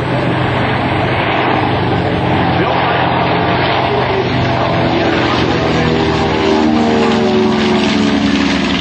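A steady, loud propeller engine drone that slowly rises in pitch as power builds, continuous and close, like a fully loaded twin-engine B-25 bomber accelerating for takeoff.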